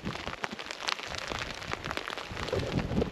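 Rain falling steadily outdoors during a fishing trip, a dense close patter of drops hitting surfaces with no talking.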